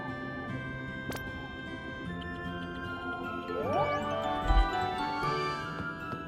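A bright bell jingle from the video game Harvest Moon: Animal Parade rings out over the game's steady background music, with a sharp chime early on and a rising tinkling run midway.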